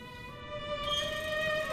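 A faint, sustained tonal creaking drone in a Pizza Tower dating sim video game, hovering steadily with layered harmonic whines that swell slightly louder halfway through, with no one talking.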